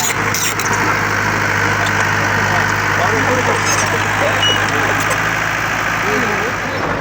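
A tractor tows a trolley along a village road in floodwater country, with a crane following behind it. The engine runs at a steady, continuous drone throughout, and people talk over it.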